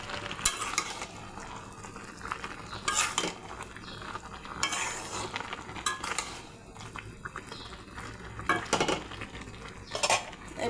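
Fried prawns are tipped into a pot of Malabar spinach and pumpkin greens, then stirred with a metal utensil: repeated scraping and clanks against the pot over a soft, continuous sizzle.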